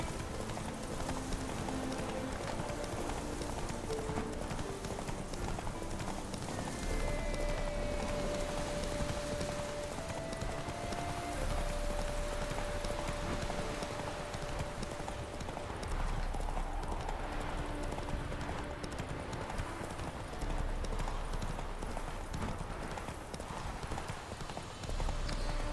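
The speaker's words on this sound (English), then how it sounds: "Horse races in this game are so high octane and exciting and thrilling!" Hooves of a galloping racehorse in a Witcher 3 horse race clatter in a steady, rapid clip-clop rhythm, close and continuous, over a background game soundtrack with no talk.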